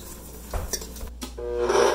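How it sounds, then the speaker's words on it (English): Bread dough ingredients, wet and dry, stirred together by hand in a bowl for butter baguettes, with soft scraping and clinking strokes up close and a louder smeary swirl toward the end. "Just gonna mix this to get everything moistened"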